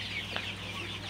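Sonali chickens on a poultry farm let out a faint, brief cluck over a low, steady background hum.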